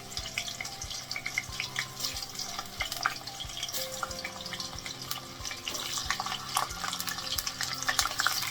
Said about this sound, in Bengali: তেল গরম হলে মুইঠাগুলো ছেড়ে দিন এবং লাল লাল হয়ে গেলে ভালো করে ভেজে